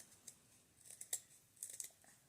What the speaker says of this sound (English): then I am going to cut a triangle out